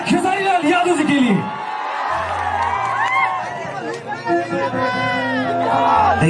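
A large crowd at a Bhojpuri stage show roars and cheers loudly for Khesari Lal Yadav, a dense sustained wave of voices with a steady hum from the sound system underneath and shouts rising over it.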